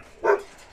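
A Taihang dog puppy gives a single short, sharp yip-like bark, close and brief against a quiet background.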